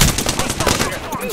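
Rapid gunfire in the Apex Legends video game, a dense string of loud close shots in quick bursts running through the whole clip with no speech on top.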